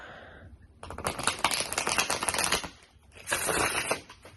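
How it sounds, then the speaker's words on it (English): Two quick bursts of tarot cards riffling and flapping together, close by, separated by a short pause. "I'm going to try to shuffle it too."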